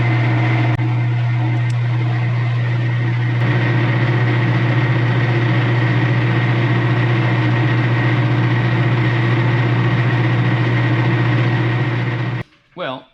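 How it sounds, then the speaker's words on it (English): Metal lathe spinning an O-ring fitting in a home workshop for a Ferrari engine swap into a Porsche 914, a loud steady low hum and whine running continuously, then cutting off near the end. "put this fitting in the lathe"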